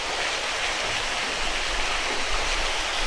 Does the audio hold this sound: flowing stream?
yes